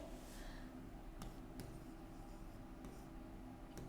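A pen moving across paper at a Hindi lesson desk, faint and close, giving a soft continuous scratch with a few small ticks and taps as the letters are formed, with no talking.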